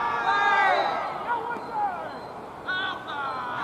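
Cricket crowd appealing loudly during a friendly match between sides of Kew CC, a raised babble of many voices that swells, dips, then rises again near the end.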